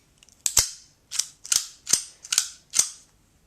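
Slide of a Ruger LCP II .22 pistol racked repeatedly: six crisp metallic clack pairs in quick succession, close and loud, each snapping sharply then fading, with no voices.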